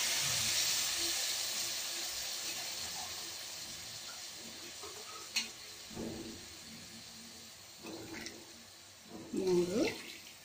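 Hot water pours with a steady hissing rush onto fried masala for chicken biryani, then fades to scattered sizzles and clinks while someone speaks.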